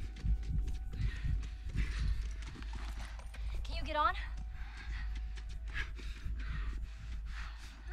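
A horse's hooves clip-clop at a walk in The Last of Us on PS3, a steady close rhythm under game ambience, with a brief whinny-like sweep partway through.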